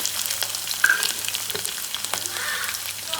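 Crushed garlic frying in a pan for an Andhra-style spinach dish, a steady broadband sizzle with scattered crackles and stirring clicks, close and fairly quiet, no talking.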